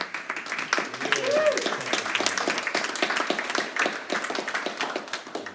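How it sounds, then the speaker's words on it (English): A church annual meeting audience applauds, a fairly soft spread of many hands clapping steadily, with a faint voice briefly heard partway through. "give all of yourselves a great big round of applause"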